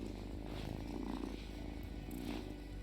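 A cat purrs steadily inside the video game Wylde Flowers, a soft continuous rumble with gentle rhythmic swells, heard alone at moderate loudness.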